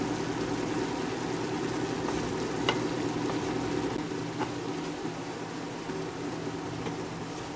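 Soy sauce mixture stirred in a hot frying pan, a steady close sizzle running throughout with a few faint scrapes and clinks of the utensil, no voices.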